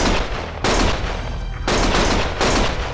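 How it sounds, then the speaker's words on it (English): Loud, dense bursts of automatic gunfire in the video game Lost Judgment, three sustained volleys separated by brief pauses, close and harsh, with no voices. "Stop shooting!"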